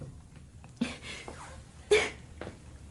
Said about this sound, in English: to find out if they managed to get rid of that ugly little cough